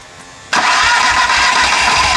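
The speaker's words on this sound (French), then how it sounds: "Faudrait que tu réessayes au démarreur s'il y a de la compression." A car engine with one dead cylinder and questionable compression turns over on the starter, bursting in abruptly and loudly, then running as a steady, rough, continuous roar close by.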